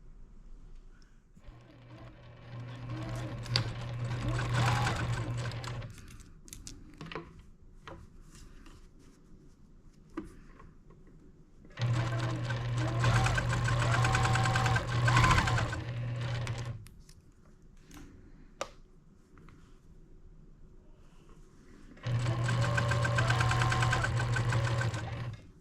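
A sewing machine stitches quilt seams in three loud, steady bursts of rapid mechanical whirring, separated by quieter pauses with soft fabric rustling and light clicks.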